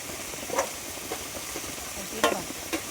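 A spoon stirs turmeric and salt in a sizzling frying pan, with soft steady frying hiss and a few distinct scraping clinks against the pan, close and moderately quiet.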